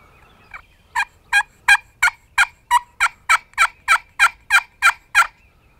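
A wild turkey gobbles in a long, evenly spaced series of about a dozen loud, sharp calls, clear and alone over a quiet outdoor background during a crossbow turkey hunt.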